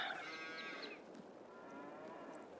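Cattle lowing inside a barn, one clear moo rising and fading within the first second, followed by faint rustling barn ambience with no voices.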